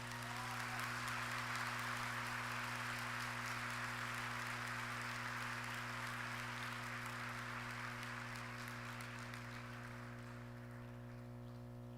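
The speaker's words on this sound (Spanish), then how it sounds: "Vamos a darle un fuerte aplauso a Jesús por su amor." A church congregation gives sustained applause at a Catholic talk, a dense even clatter of many hands over a low steady hum, holding for about nine seconds before slowly fading.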